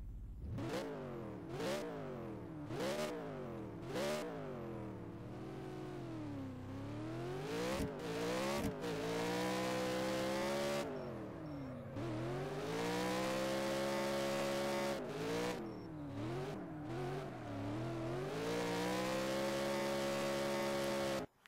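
A car in the rFactor racing game drifts through a corner, its engine revving up and down in repeated rising and falling sweeps with steady loud drone throughout, no voices.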